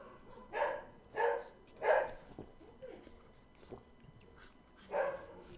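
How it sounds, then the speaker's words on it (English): Dogs bark indoors in a few separate bursts, with sharp woofs spaced irregularly at moderate distance and fairly faint, and short quiet gaps between them. "as you can hear, my dogs are going crazy for no reason whatsoever."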